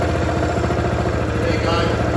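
A small engine on a Masport cylinder mower runs steadily just after starting, a close, rapid low putter with an even pulsing rhythm and no talk.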